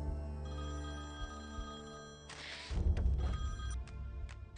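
A telephone ringtone rings steadily in a scene from the Telugu film Padi Padi Leche Manasu, a sustained electronic tone that carries on alone with no talking over it.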